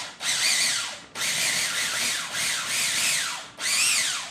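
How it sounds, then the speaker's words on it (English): A food processor whirs in four short bursts, chopping roasted garlic, jalapeno and onions, with brief pauses between pulses and no talk. "putting the garlic, jalapeno, and the onions in the food processor for a little bit"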